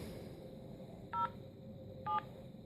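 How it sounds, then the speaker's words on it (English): Two short dialing tones from an HTC phone keypad, each a brief beep about a second apart, faint over a low steady background hum. "why don't I dial O2?"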